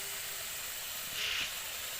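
Chopped ginger, garlic and chili sizzle in olive oil in a pan, a soft, steady hiss that swells briefly midway through two seconds of cooking.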